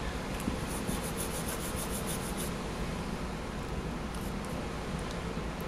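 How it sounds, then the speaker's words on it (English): A brass brush scrubs leftover paint off a metal casting in a fast, continuous rasping rub that stays close and steady throughout, with no voices. "I'm going to go ahead and use a brass brush. Take care of any leftover paint."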